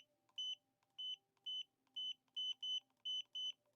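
A Godox V1 speedlight flash chirps its recycle-ready beep eight times in a quick, regular series of short bright tones, each tone sitting close and clear over a quiet room.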